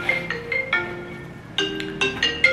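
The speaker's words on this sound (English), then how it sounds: "That is my alarm for Inaya's feeding" A phone alarm for a baby's feeding rings in a hotel room as a short repeating melody of bright electronic tones, each a few notes long, fairly close and clear with no talking.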